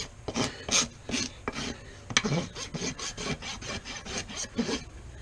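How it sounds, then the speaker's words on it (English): A farrier works a rasp across a horse's hoof in quick back-and-forth strokes, giving a rhythmic series of dry scraping rasps heard close and without talk. "When you take that file, it just makes it look so much better."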